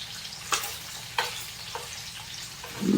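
Bacon frying in a pan over medium heat, a low steady sizzle punctuated by a few crisp pops and scrapes, close and moderate in level, with no speech.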